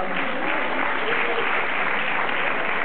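Spectators at a tango championship qualifier in a milonga hall in Bahía Blanca applaud a dancing couple, a continuous, even spread of clapping with crowd murmur throughout, somewhat muffled and band-limited.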